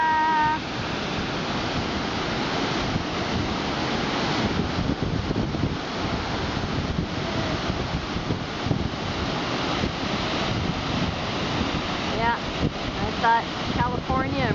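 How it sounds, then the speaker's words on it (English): Nugget Falls in Juneau, Alaska roars as a dense, steady rush of falling water with wind buffeting the microphone, continuous and close for the whole stretch. "I'm going to try to take a picture of this waterfall"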